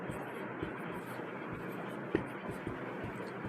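A marker squeaks and scratches across a board as math working is written out during a Class 10 lesson, in short strokes with one sharper tap, while a teacher talks over it.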